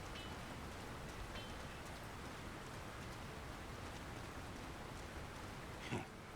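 Steady rain pours over a town in the fantasy video game War in the North, an even broadband hiss of falling water with a brief louder spatter near the end and no voices.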